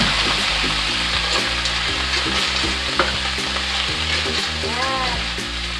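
Fresh kinhason (aninikad) sea shellfish sizzle loudly in a frying pan, a steady dense crackle and hiss running throughout with soft clatter of the shells and stirring.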